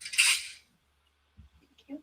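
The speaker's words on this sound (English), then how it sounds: "But here is the sound of a gun being racked." A sharp metallic shotgun rack rings out first, followed by quiet pauses and two soft, brief knocks.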